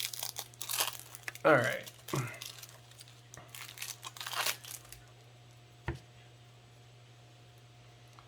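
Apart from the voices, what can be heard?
crinkling cellophane packet being opened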